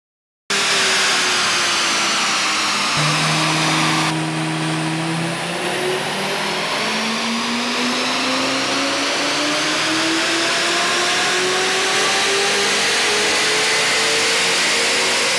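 A Lamborghini engine, before fitting of a Heffner twin turbo kit, runs loudly and revs steadily, its pitch climbing and shifting for about fifteen seconds with no talk.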